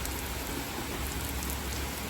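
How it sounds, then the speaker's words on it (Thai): Heavy rain pours steadily onto a garden in Belgium, a dense, unbroken wash of close droplets that holds the same loudness throughout with no voices. "ตอนนี้ฝนตกแรงมากเลย"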